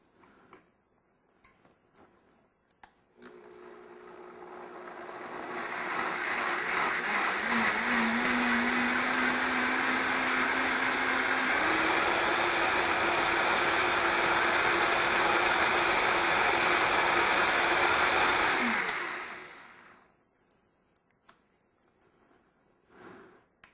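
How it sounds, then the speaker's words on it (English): A blender whirs up to a loud, steady roar while blending butternut squash soup with curry, its pitch shifting slightly mid-run before it winds down and stops after about fifteen seconds. "And we're ready to blend again."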